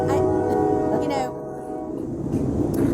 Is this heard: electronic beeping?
no